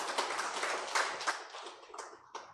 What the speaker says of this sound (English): Can we please give them a hearty hand clap?